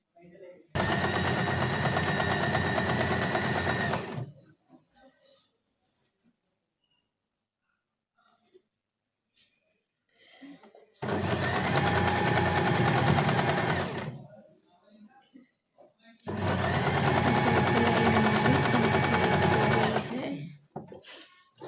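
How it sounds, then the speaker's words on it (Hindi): Sewing machine stitching a long gown in three loud, close bursts of rapid mechanical whirring, each a few seconds long and separated by quiet pauses, with faint handling noises in the gaps. "यहाँ से ये सिलाई लगा देनी है।"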